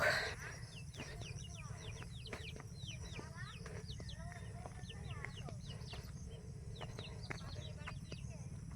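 Chickens cluck and chatter busily at a distance on a farm planted with white corn, over a steady low outdoor rumble, many short calls overlapping without pause.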